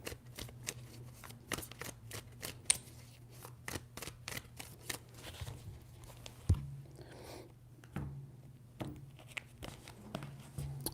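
A deck of tarot cards is shuffled in a quiet room, with a steady series of soft, crisp clicks and riffles close by and a faint low hum underneath.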